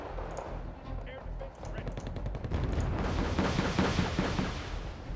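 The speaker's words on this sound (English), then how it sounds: "Chaparrals are firing at the recon." Chaparral anti-air units firing in the war strategy game Wargame: Red Dragon, a dense run of rapid gunfire bursts and booming launches that swells into a continuous roar of combat noise, with no talk.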